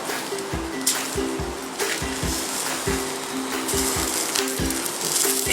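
Steady sizzling and crackling from biryani rice frying in a hot cast iron Dutch oven, with repeated soft scraping or stirring knocks in a regular rhythm.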